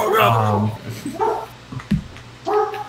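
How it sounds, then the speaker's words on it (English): An excited dog barks and yips close by in a short burst of sharp, uneven calls, mixed with a voice in the background. "my dog's going nuts"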